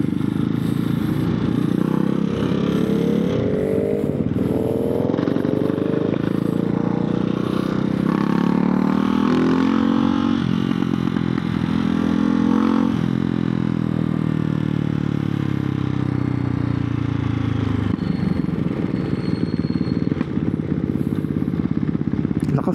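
A Ducati Hypermotard 698 motorcycle on a test ride rumbles and revs through rising and falling engine sweeps, with wind and road noise throughout and a rider's voice talking over it.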